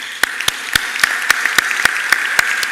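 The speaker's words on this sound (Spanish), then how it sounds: "un fuerte aplauso al Grupo RPP" Audience applause for the organizers at a women's economic panel event hosted by a radio group: a room of steady clapping with distinct loud individual claps standing out near the microphone, without speech.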